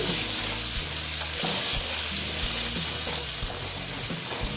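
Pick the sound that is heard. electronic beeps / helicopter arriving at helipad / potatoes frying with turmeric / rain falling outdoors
potatoes frying with turmeric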